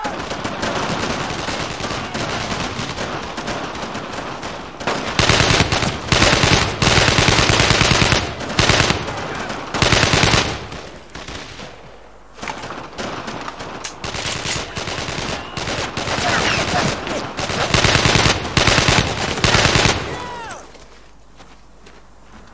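Sustained bursts of machine-gun and rifle fire in a Brothers in Arms battle in a town, loud and close, pausing briefly around the middle and fading near the end, with shouted voices of soldiers beneath.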